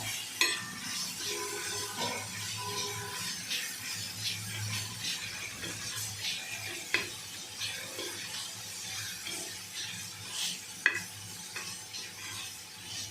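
Prawn thecha sautéing in a pan, a steady close sizzle broken by occasional scrapes and clinks of a spoon stirring against the metal, with no talking.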